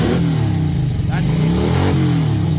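A loud motorcycle engine revs and rumbles steadily, its deep growl rising and falling close by, with a voice briefly heard over it.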